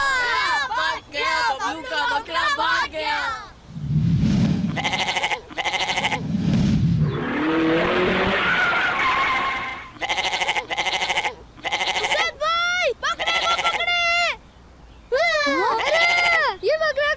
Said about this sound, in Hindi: ये देखो बकरों की लड़ाई हो रही है